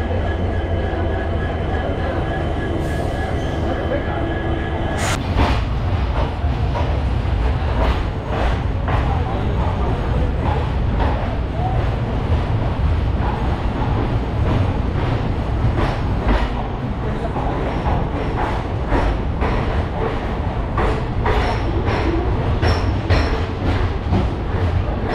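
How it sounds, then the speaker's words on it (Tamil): The train to Talaguppa runs with a constant loud rumble and a rhythmic clickety-clack from its wheels, heard from on board throughout. "இதுதான் 11:15க்கு நான் இப்போ போக போகிற தாலுகோப்பா போகிற அந்த ட்ரெயின்."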